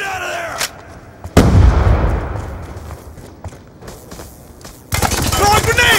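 A grenade blast followed by scattered gunfire in Black Ops 2 multiplayer: a sharp shot, a loud booming explosion that rumbles and decays, then a burst of firing and shouted voices near the end.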